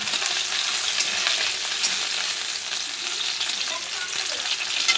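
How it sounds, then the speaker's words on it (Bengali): Chopped tomatoes fry in hot mustard oil in a wok, a loud, steady crackling sizzle with occasional stirring scrapes and no speech. "টমেটোগুলো একটু ভাজা করে নেব।"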